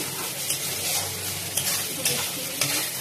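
Potol dorma filling with turmeric and Kashmiri chili powder is stir-fried in a pan: a loud, steady sizzle and frying hiss, punctuated every second or so by the scrape of a spatula stirring, with no voices.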